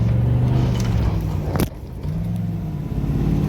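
A Ford Mustang SN95 with a newly fitted short-throw shifter drives along, its engine humming loud and steady from inside the cabin. The drone dips briefly midway during a gear change, then resumes.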